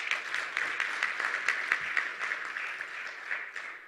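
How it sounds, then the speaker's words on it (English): A seated audience at a Hindu community gathering claps steadily, dense overlapping applause holding at an even level for a few seconds before easing slightly. "So a round of applause for them, please."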